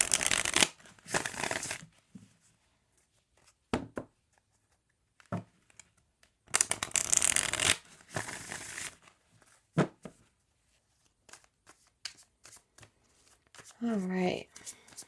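Energy cards are handled and shuffled in several crisp riffling bursts close by, separated by quiet gaps, ending with a short tonal sound.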